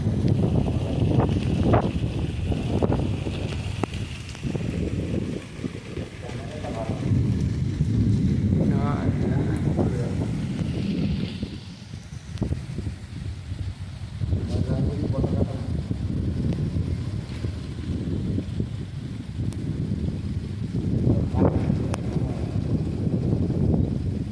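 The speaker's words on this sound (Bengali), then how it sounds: "হাওয়াটা যে প্রচুর দিচ্ছে না" Strong wind gusting steadily against the microphone during rainfall near a mill, a continuous rushing roar throughout with brief lulls, while a person talks over it.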